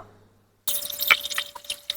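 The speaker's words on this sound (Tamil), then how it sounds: "முதல்ல நாங்கள் இந்த அரிசியை கழுவி எடுத்துக்கொள்ளுவோம்" Raw rice is washed by hand in a bowl of water. After a moment of near silence, close wet splashing, sloshing and dripping begin and carry on in uneven bursts.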